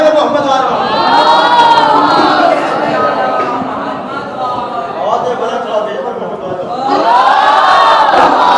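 A large gathering at a Shia majlis answers a call to send salawat with loud, rising collective chanting, swelling in waves and dipping briefly before surging again.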